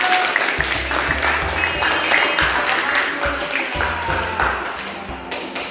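A classroom of students claps together in dense, sustained applause that fills the room, steady and fairly loud from start to finish.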